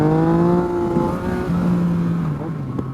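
A Yamaha MT-09 motorcycle engine revs hard and close during a wheelie, holding a loud, steady drone that dips slightly and then climbs again.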